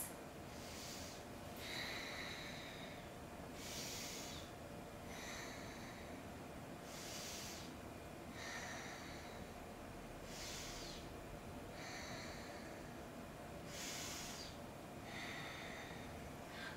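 Slow, steady breaths hiss in and out during a held yoga squat in a vinyasa class, evenly spaced and soft, with a faint steady background hum underneath.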